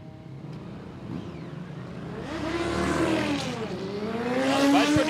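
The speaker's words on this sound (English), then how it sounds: "So Michael Mott's got to get that big Kawasaki motivated" A big Kawasaki drag racing motorcycle launches down the strip at a dragway, its engine note climbing and growing louder in a steady rising pull over several seconds.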